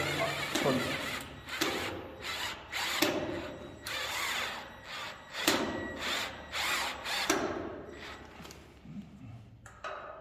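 A power drill whirs at low speed in short, intermittent runs with pauses and light mechanical clatter between, close by.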